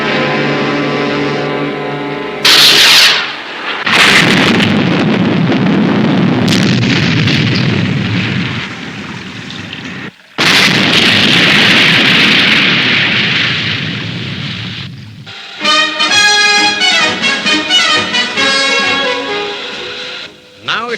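Delta missiles exploding in the Stingray puppet series: several loud, long explosive roars and rumbling blasts separated by short gaps, followed by dramatic orchestral music.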